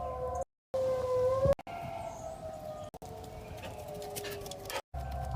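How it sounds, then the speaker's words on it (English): Tornado sirens wail outdoors during a storm, a sustained rising and falling tone heard from a distance over steady rain-like patter, with a few abrupt dropouts. "You can hear the tornado sirens going."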